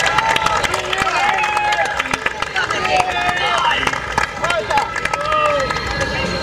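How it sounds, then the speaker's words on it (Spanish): Dense crowd applause and cheering at Expo Cañuelas 2024, greeting a guest as he arrives; steady loud clapping with crowd hubbub throughout, no clear talk. "Fuerte el aplauso para recibir a Lionel, Andrés, Messi."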